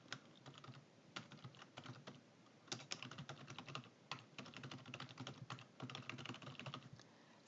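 Computer keyboard typing during data entry into an Excel spreadsheet, steady bursts of quick close key clicks with short pauses between runs, no voices.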